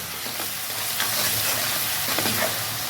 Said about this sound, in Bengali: প্রথমে এইভাবে পেঁয়াজটা কিন্তু আমি একটু ভেজে নেব